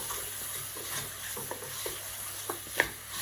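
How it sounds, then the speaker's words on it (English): A spoon scrapes and stirs through massaman curry simmering in a pan, giving soft intermittent clinks and scrapes over a gentle, continuous sizzle, close by with no talking. "we're just going to stir everything."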